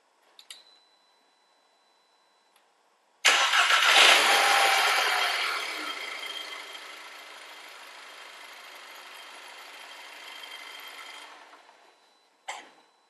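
After a quiet click or two, a Volkswagen Scirocco engine cranks and fires with a loud burst after a battery replacement, then settles into a steady idle before shutting off.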